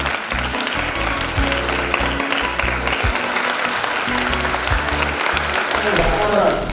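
Sustained applause from an audience at a school annual function, dense steady clapping that runs unbroken throughout, with a voice speaking over it.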